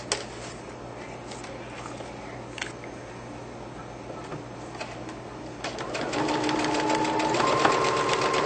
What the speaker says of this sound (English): this time I'm going to sew right across because we've already seamed this side